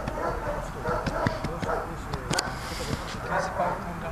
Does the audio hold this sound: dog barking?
yes